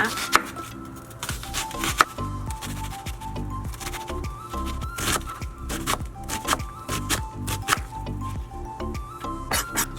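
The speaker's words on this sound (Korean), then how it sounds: "양파 같은 경우에는 반 개를 사용할 거고요. 잘게 다져주시면 됩니다" Steady knife chopping as half an onion is finely minced on a board, close and moderately loud, with a quick irregular rhythm of sharp taps and soft background hum, no voices.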